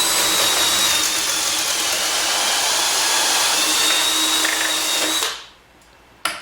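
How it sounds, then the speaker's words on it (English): A power drill bores a 5/16 inch pilot hole deep into a wooden fence for jacking bolts, a loud steady whine running continuously before cutting off abruptly near the end. "Next, we drill the holes for the jacking bolts that go on the bottom."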